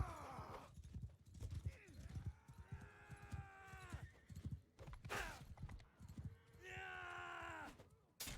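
Horse hooves clip-clopping in the medieval combat game Bannerlord, irregular thudding steps amid battle noise, with a horse whinny and a player talking over the action.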